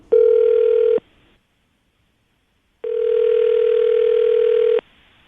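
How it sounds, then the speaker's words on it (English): A steady telephone dial tone sounds loud and close for about a second, goes silent, then returns for roughly two more seconds as a call is placed, with no voices over it. "we're going to call her right now, see if we can get her on the phone"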